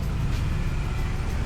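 Steady road traffic rumble surrounds a Honda Fazzio 125 scooter in motion, a dense continuous low roar of cars and buses close by, with no talk over it.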